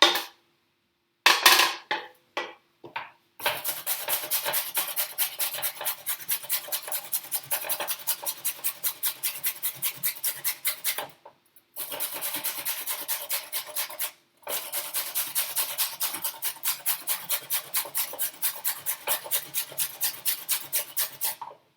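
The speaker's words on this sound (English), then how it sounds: "Who would have thought grating a carrot could be so tiring?" A raw carrot is grated by hand on a kitchen grater, giving long runs of fast, even rasping strokes close up, broken by a few short pauses.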